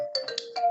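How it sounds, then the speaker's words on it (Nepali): A mobile phone ringtone chimes a brief melodic phrase during a classroom lecture, loud and close with no talking over it. "कसको फोन आएछ फेरि"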